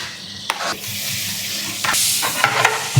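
Green chillies drop into hot sunflower oil and sizzle loudly, with a few sharp crackles and stirring clatters over a steady frying hiss.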